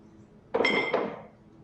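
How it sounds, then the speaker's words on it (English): A glass ashtray is set down on a table and slid across it, making a short bright clink and scrape that fades quickly in a quiet room. "I'm sure you won't object if I move the ashtray."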